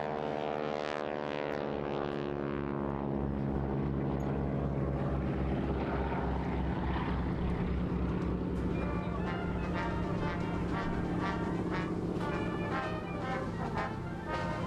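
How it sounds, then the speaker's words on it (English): Vintage 1930s–40s military training aircraft drone overhead at an air display, a continuous, fairly distant propeller-engine hum with shifting pitch that persists throughout. "these aircraft, again, taking us back to the mid-war periods, the 30s and early 40s, when these were the mainstay of military flying training"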